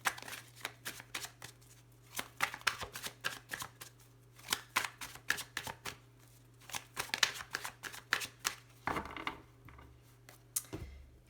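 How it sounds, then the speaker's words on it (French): Tarot cards handled and shuffled on a table, a steady run of quick soft riffling and tapping bursts, close and fairly quiet, with a faint low hum underneath. "J'arrive à remettre mes cartes dans le bon ordre."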